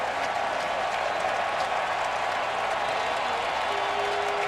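A large crowd of Oakland A's fans at a 2013 playoff baseball game against Detroit keeps up a loud, unbroken roar of cheering and clapping that fills the stadium throughout.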